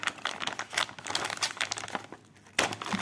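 Packaging being opened for an unboxing of jewelry-making and cross-stitch bead supplies, with continuous close crinkling and rustling of wrapping, dense and busy, dipping briefly before a louder crackle near the end.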